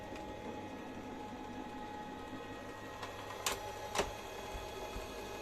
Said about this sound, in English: The printer starts filling ink in the system.